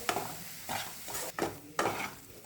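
Soya mince mixture being stirred and mixed in a pan, giving four scraping strokes in a steady rhythm with a faint sizzle underneath, close and fairly quiet, no talking.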